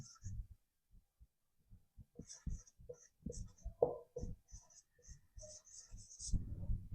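Light tapping and scratching strokes of writing on a board during a calendar lesson, intermittent and close, with a teacher's voice faintly mixed in.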